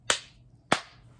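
Two sharp hand claps about half a second apart, close and clear in the near-silence of a children's Bingo song.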